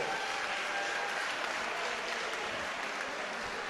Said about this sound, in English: please keep your applause going as well for her competitor